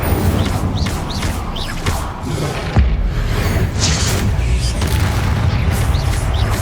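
Confringo, an explosive spell in the Hogwarts Legacy video game, sounds as layered magical blasts and booms amid dense combat effects, with whooshes and crackling impacts over a continuous loud game soundscape.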